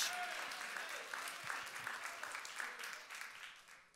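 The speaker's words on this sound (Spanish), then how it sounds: "eso para que usted le dé un aplauso" Church audience applauding at a Spanish-language sermon, a quiet, continuous patter of many hands that slowly fades toward the end.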